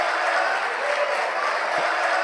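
A church congregation applauds at a Bible study service, a dense, steady wash of clapping that holds evenly for a couple of seconds without a break.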